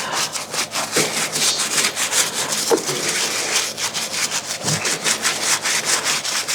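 A dusty Nike Air More Uptempo sneaker scrubbed clean, brisk rhythmic back-and-forth scrubbing strokes, close and loud, continuing steadily throughout with no talking.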